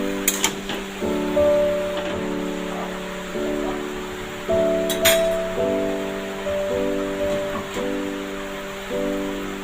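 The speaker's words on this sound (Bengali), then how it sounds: "এটা এখন ঢাকা দিয়ে দেবো।" A lid clinks down onto a cooking pot of bottle gourd shukto, a few sharp metallic taps near the start and again midway over a steady tonal hum in the background.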